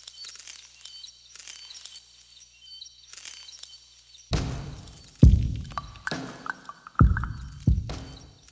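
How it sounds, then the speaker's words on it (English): Faint bird chirps and natural sounds recorded outdoors in Hawaii drift through the first few seconds, then loud rhythmic percussive knocks come in over the top. "what you're hearing are the actual plants and birds recorded in Hawaii on my trip"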